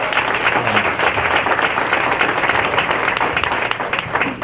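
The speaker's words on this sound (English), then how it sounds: "Clap it up for that." Audience applause at a live comedy appearance, a dense steady wash of clapping filling the whole stretch at fairly even loudness, with crowd noise mixed in.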